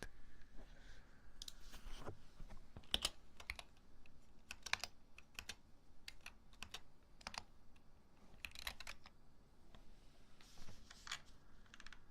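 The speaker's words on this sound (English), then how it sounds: "little bonus keyboard noises" Close, quiet typing on a computer keyboard, with a steady stream of irregular key clicks and occasional sharper taps.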